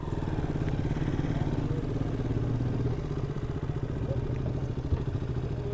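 Motorcycles ride up a rough mountain trail on the Nevado de Toluca volcano, engines thrumming steadily and close with a clattering, thumping rhythm throughout, with faint voices in the background.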